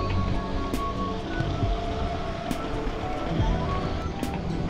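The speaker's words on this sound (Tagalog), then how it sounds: "Sarap na ng hangin dito." Heavy wind buffets the microphone continuously, a loud rushing roar with no pauses, like air streaming past while riding.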